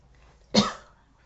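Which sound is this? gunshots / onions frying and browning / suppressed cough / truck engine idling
suppressed cough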